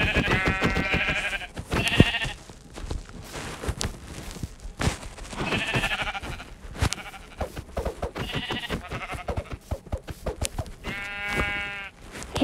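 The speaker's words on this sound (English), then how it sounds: "Wait, I see a sheep." Sheep bleat in the Minecraft video game, several distinct wavering bleats repeating at irregular intervals over a busy background of clicks and thumps from gameplay.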